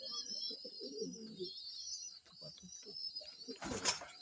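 Pigeons kept as breeders in a loft at dark, cooing softly in low, rolling bursts, with faint distant birdsong and a brief rustling clatter near the end.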